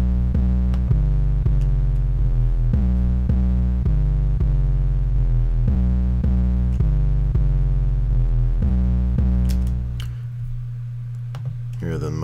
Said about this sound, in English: the next sound that we have is the 808